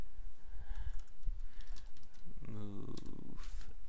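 Keystrokes on a computer keyboard clatter in short irregular bursts, close and moderately loud, mixed with faint background noise and a brief stretch of speech-like tone midway through.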